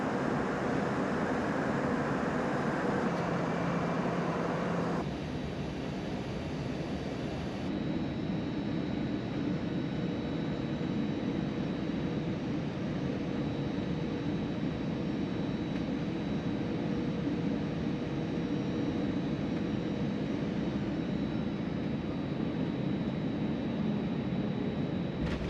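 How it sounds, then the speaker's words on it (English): Steady broadband roar of airliner cabin noise on a Brussels Airlines flight descending into Heathrow, constant and enveloping throughout, with slight shifts in tone but no talk. "So we are coming into Heathrow, we should be landing shortly."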